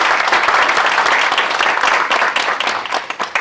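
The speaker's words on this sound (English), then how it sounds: "Big round of applause for her." Conference audience at BSides Buffalo 2025 applauds a cybersecurity speaker, a loud, full burst of many people clapping that thins into scattered claps near the end.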